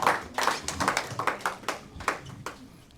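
A church congregation claps together in acclaim, about a dozen fairly even hand claps in a loose rhythm, moderately close and without talk.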